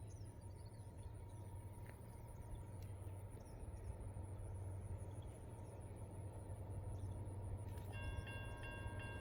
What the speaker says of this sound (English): Our train picks up speed here